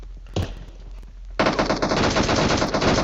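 Automatic gunfire in PUBG, a sharp shot near the start and then a sustained, loud burst of rapid machine-gun fire aimed at a buggy, continuing steadily to the end.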